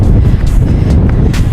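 A strong gust of wind roars hard and close into the microphone on a steep mountain hike up La Rhune, a loud, continuous buffeting that covers everything for its full length.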